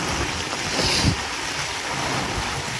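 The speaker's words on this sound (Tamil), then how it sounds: "இந்த தண்ணி எப்படி ஓடுது பாருங்க." Rainwater drains off a terrace and runs along a road in Chennai rain, making a steady, broadband rushing wash that is fairly loud and constant, with no talking.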